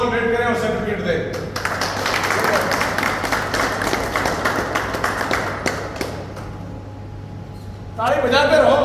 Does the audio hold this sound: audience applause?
yes